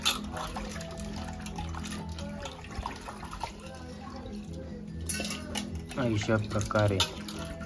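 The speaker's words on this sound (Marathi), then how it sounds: "तर त्याला एकदा आता स्वच्छ पाण्याने धुवून घेता." Small dried fish are rinsed with clean water in a pot, with splashing, dripping and sloshing up close while someone talks over the washing.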